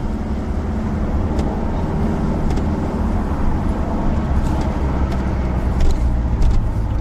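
A car engine hums steadily at close range, revving slightly as the vehicle pulls away, with a constant low rumble throughout and no talking.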